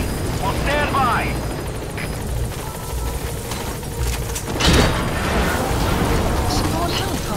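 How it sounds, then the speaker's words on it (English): A support helicopter arrives in Metal Gear Solid V, its rotor thump and engine roar swelling with a loud burst midway while a voice talks over it. "Support helicopter has arrived."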